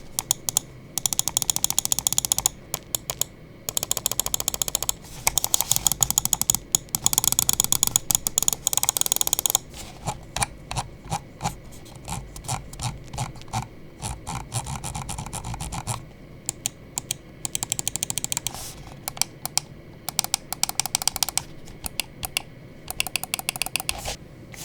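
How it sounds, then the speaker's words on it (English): Rapid bursts of crisp mouse button clicks from a Vaxee Zygen NP-01s v2 and an original NP-01s, close and dry, coming in fast clustered runs with short pauses between sets. "let's go ahead and check out the click quality sound check, and I will even go ahead and throw in the original NP-01s"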